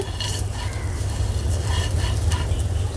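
Steady, soft frying sizzle with light scraping and stirring sounds throughout, close by, as fried vermicelli is mixed in ghee.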